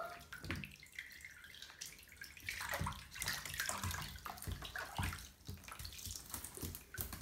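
A small child splashes water in a little tub at bath time: irregular sloshes and slaps of water, close and fairly soft, with no talking.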